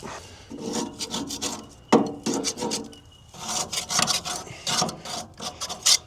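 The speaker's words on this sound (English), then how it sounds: "So I'll get the scraper, clean all that up." Hand scraper rasping grime off a part of a Ferguson TE20 tractor, repeated rough scraping strokes in uneven bursts, close up and fairly loud, with no voices.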